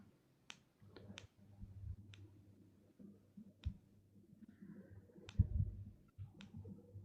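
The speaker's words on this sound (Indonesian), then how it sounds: "Biarin dia ngetik dulu." Someone types slowly on a keyboard, each key giving a sharp, isolated click at irregular intervals, quiet and close over a faint low hum.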